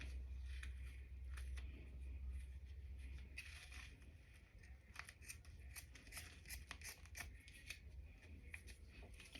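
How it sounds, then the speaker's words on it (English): Scissors snipping through body tape, several quick close cuts clustered in the second half, faint over a quiet room with no talk. "we're gonna cut this tape right here"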